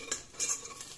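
Dry coconut fries in a pan, heard as a brief metallic clink and scrape of a utensil over a faint sizzle, a single quick moment with no talking.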